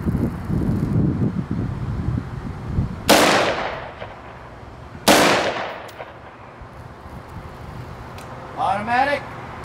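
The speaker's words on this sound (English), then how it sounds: "That's firing single shot. Firearm is chambered. Single shot test." A firearm fires two sharp, loud single shots a couple of seconds apart during test firing, each with a short decaying tail, over wind noise, with a brief voice at the end.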